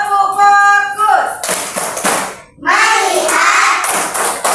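A classroom of students performing the 'tepuk fokus' rhythmic clap, loud bursts of group clapping in a patterned sequence, with a voice leading and chanting between clap sets.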